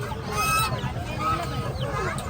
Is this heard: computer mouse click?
no